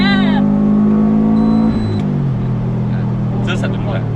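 Subaru Forester engine revs hard, a steady high-rpm drone that drops abruptly partway through and settles into a lower idle-like hum, recorded up close.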